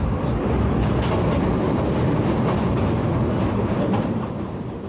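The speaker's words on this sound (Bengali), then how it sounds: "আমাদের ট্রেনটি এখন কপোতাক্ষ নদ অতিক্রম করে যাচ্ছে।" Ruposhi Bangla passenger train rolling over the Kapotaksha river bridge, heard from on board: a loud, steady rumble of wheels and carriages with faint clatter and a brief high squeal, fading slightly at the end.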